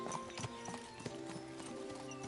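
Horse hooves in a video game clip-clop in a quick, uneven rhythm over ambient game music, close and moderately loud, with a faint whinny mixed in.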